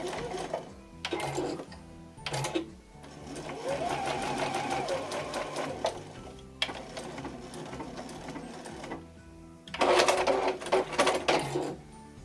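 A sewing machine runs in quick bursts, stitching fabric pieces for a Christmas tree project; loud, rapid mechanical chatter starts and stops several times over about twelve seconds, with no talking.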